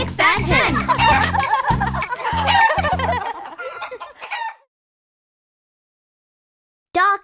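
A hen clucks and a rooster crows loudly over a busy, layered farmyard chorus of fowl that stops abruptly after about four seconds, with one last short burst near the end.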